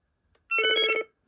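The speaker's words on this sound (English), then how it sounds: "Oh, it's got ringtones." A BT2200 cordless phone base station plays a short electronic ringtone, one brief warbling burst of rapid pulsed tones, clear and close with no talking.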